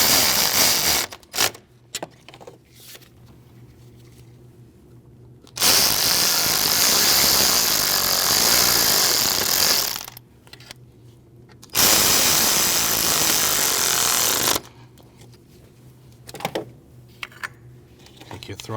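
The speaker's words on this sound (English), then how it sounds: "Snug those bolts." Power tool snugging the thermostat housing bolts on a 2014-2023 Jeep Cherokee 2.4L four-cylinder: two sustained bursts of motor whir, each about four seconds, separated by quieter clicks and handling noises.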